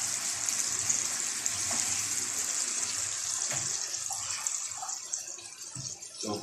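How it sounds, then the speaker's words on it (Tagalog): Water poured from a tap into a pan of pork adobo in soy sauce, a steady broadband rushing and splashing that runs continuously, fairly close, with small clinks near the end. "pwede natin kunting lagyan ng kunting water para hindi ganun kaalat"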